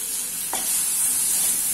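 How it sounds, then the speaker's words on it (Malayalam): Chopped tomato dropped into hot oil with spices for a potato capsicum masala curry, giving a sudden burst that settles into a steady loud sizzle, close and continuous. "അപ്പൊ ഞാൻ ഇതിനകത്തേക്ക് ഇതേ ഒരു തക്കാളി അരിഞ്ഞ ചേർത്ത് കൊടുക്കാണ്"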